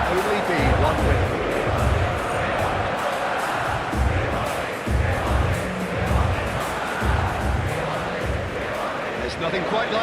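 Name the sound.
stadium crowd in PES 26 football video game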